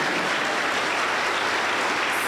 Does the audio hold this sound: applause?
yes